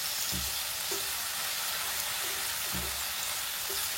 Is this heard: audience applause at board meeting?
no